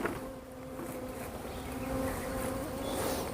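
Stingless bees hum steadily around an opened box hive during a honey harvest, a close, continuous buzz that swells slightly without pause and with no voices.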